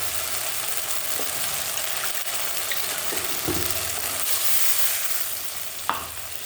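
Ground spice paste with nuts frying in oil for potol curry gives a steady, loud sizzle up close, with a few soft stirring knocks from the spoon scattered through.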